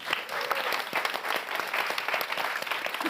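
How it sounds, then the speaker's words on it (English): Audience applause at the end of a panel discussion at a youth summit in London, a steady dense patter of many hands clapping throughout, fairly close and even. "Round of applause for the panel"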